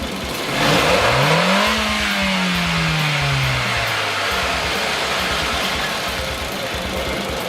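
A car engine floored from idle up to 4000 rpm, with one sharp rising rev that peaks and then winds down to a steady idle with a rough hum, close and loud.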